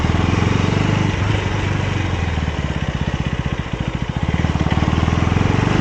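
A KTM Duke 250 motorcycle engine, 2024 Gen 3 model, idling and revving nearby with a steady pulsing thrum that quickens and slows slightly, loud and continuous with no voices.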